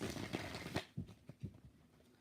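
Tarot cards are shuffled by hand in a quiet room, giving a few soft, quick riffling and slapping bursts close by that taper off into faint taps.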